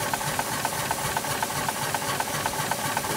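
A Fowler R3 steam traction engine runs after a new crankshaft was fitted, its hissing steady noise overlaid by a regular, fast mechanical knocking that repeats evenly throughout, close and fairly loud.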